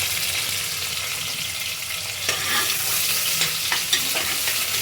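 Chopped onions sizzle and crackle in hot oil for chicken pulao, with steady frying hiss and intermittent scraping and clattering as they are stirred in the pan, close and loud with no voices.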